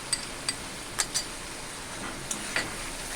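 Spice paste with ground cashew and melon seed paste sizzles steadily in hot oil in a pan, close up, with a few sharp clinks of a spoon stirring against the pan.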